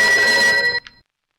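A telephone bell rings loudly in the film Skinamarink, a steady tonal ring that cuts off abruptly, followed by one faint short chirp and then silence.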